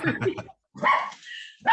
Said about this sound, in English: Oh, sorry about my dog.